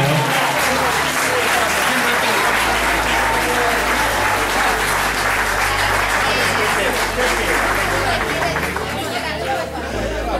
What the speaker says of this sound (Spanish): Un fuerte aplauso para todos ellos que siguen subiendo